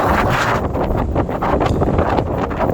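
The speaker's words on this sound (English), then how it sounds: "The Arctic wind is burning our face, really." Strong Arctic wind blasting a microphone outdoors on snowy streets in Iceland, a loud continuous buffeting roar with gusty surges and no talk.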